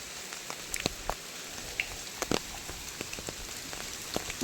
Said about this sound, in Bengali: বৃষ্টি হচ্ছে সেই কারণে ছাতা নিয়ে এসেছি